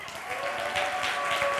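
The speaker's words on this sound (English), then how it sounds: "Clap if you want to hear at least one of them." A church congregation breaks into applause, a thick, steady wash of many hands clapping at moderate distance that holds throughout.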